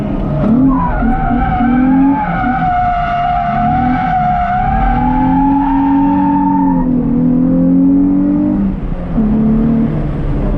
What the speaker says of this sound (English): Stuck in traffic, do a little drifting through here.